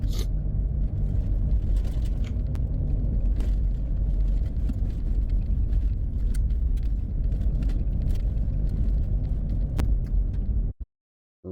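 A car drives steadily down a dirt road with a loud, continuous engine rumble and gravelly tire noise, close and unbroken for about ten seconds before cutting out abruptly.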